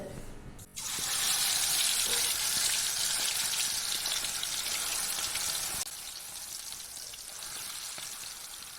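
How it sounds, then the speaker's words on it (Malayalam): Chicken sizzles and fries in coconut oil in a pan, a loud, steady hiss that bursts in after a brief pause and holds throughout, easing slightly toward the end. "ഇനി ഇത് പൊരിച്ചെടുക്കാം."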